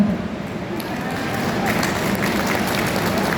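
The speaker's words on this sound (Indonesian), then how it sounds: "Tepuk tangan yang nanti." An audience at a medical talk breaks into applause, a dense, steady patter of many hands clapping that swells slightly and continues for a few seconds.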